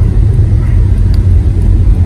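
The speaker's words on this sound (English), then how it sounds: "tires are a little noisy," A steady, loud low rumble of road noise from a lifted Toyota pickup rolling on big mud grip tires, continuous and droning with no distinct events.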